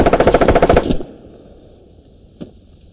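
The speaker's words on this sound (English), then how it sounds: "I hear them shooting at you now" Automatic gunfire in the military shooter video game Squad, a loud rapid burst of shots lasting about a second, then quiet ambience with one fainter distant shot shortly after.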